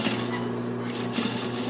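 Sewing machine running steadily while edge stitching along a pressed suit collar, the motor holding a continuous even hum with light mechanical clatter throughout, close and moderately quiet, no talking.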